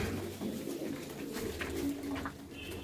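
Pigeons kept by a fancier coo in a loft, low soft calls repeating steadily over a continuous background of rustling and faint ambient noise, no speech.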